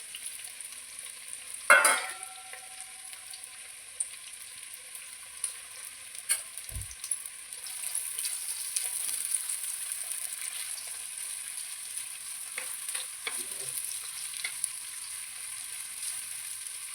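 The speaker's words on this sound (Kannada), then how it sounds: "ಇದು ಸ್ವಲ್ಪ ಬ್ರೌನ್ ಆಗೋವರೆಗೆ ಸ್ವಲ್ಪ ಫ್ರೈ ಮಾಡುವ ಅದನ್ನು." Mustard seeds and small onions fry in hot oil with a soft, steady sizzle, a sharp crackle near the start and scattered pops and light stirring taps, with no voices.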